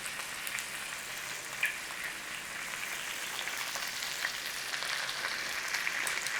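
Chicken frying in a pan, a steady close crackling sizzle with scattered pops and spits, no voices.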